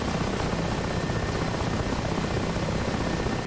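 Mi-8 helicopter running in a snow storm, a steady loud broadband engine and rotor roar with no breaks, close and unchanging throughout.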